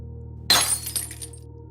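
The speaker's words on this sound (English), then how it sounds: "The sound of broken glass. A bottle shattering along the dark cobblestones" A glass bottle shatters on cobblestones in a sudden sharp crash, followed by a few scattered tinkling fragments that fade quickly, close and loud over a quiet low background hum.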